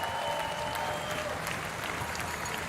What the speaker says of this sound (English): on your feet, and one more cheer here for Alexandra Förster